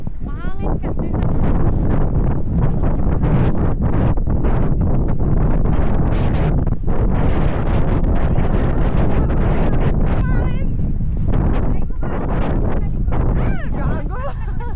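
Strong gusts batter a microphone on a mountainside near Sapa, Vietnam, a dense, constant roar of buffeting wind filling the whole stretch, with voices talking intermittently underneath.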